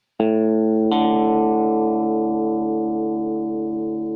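On a Kite Guitar, two strings plucked one after the other ring out together as an out-of-tune fourth, the sustained tone slowly fading with steady wavering interference beats.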